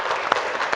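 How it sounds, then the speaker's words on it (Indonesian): A brief round of classroom clapping for a student group in a university course session, a quick scattered patter of hands at moderate volume. "Tepuk tangan untuk kelompok"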